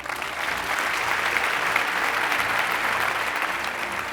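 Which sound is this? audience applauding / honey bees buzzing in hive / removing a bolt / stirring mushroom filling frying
audience applauding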